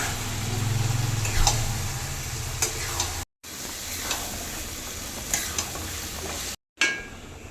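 Mutton sizzles steadily in oil and well-cooked spice paste for a mutton curry, with a loud frying hiss throughout, scattered sharp clinks of a spatula against the pot, and two brief silent breaks.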